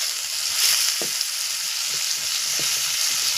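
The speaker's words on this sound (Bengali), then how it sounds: "পেঁয়াজ ভাজা হয়ে গেছে" Chopped onions sizzle steadily in a hot pan with a pinch of salt for a home-style fish roe dish, a close, continuous hiss broken by a few soft stirring knocks.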